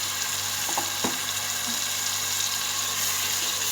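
Mutton pieces going into hot oil with ground cumin and spices for palak gosht, giving a steady close sizzle with a brief clatter as the meat drops in.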